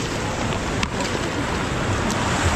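Rushing river rapids on the Ganges during rafting in Rishikesh, a dense steady roar of churning water with wind buffeting the microphone, close and loud, no talk.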